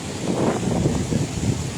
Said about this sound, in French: Il y a un peu de vent pour l'instant